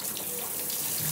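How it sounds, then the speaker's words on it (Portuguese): Household water tap turned on to fill, a steady close gush of running water splashing into a basin, continuous and fairly loud without talk. "E aqui eu já vou ligar a torneira"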